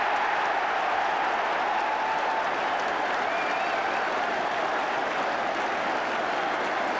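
A stadium crowd at Highbury roars and applauds after a goal in a 1981-82 Arsenal v Ipswich Town match, a dense, continuous wash of clapping and cheering that stays steady and loud.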